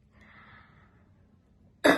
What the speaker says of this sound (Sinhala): තවත් කැස්ස ඇත්තටම